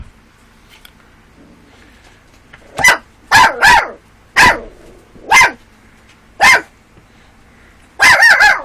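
A puppy barks close by in a quiet indoor room, giving about seven sharp, separate yaps in uneven bursts, the last two coming quickly together.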